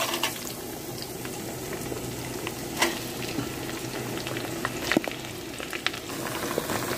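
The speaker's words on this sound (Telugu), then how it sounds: "ఇప్పుడు దొండకాయలు వేసేసుకుందాము" Ivy gourd (tindora) pieces crackle and sizzle in hot oil alongside fried dried red chillies, a dense steady frying hiss broken by sharp pops and scraping stirs, close up and with no voices.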